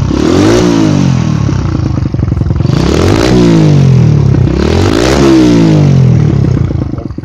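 A cold Dax trail bike, upgraded from 50cc to 88cc, revs loudly in two rising surges with a rattly, clattering engine note that stays close and continuous before easing off slightly.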